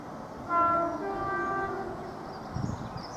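An approaching freight train rumbles steadily nearby while its horn sounds a sustained tone in the distance, and the low rolling noise carries on afterward.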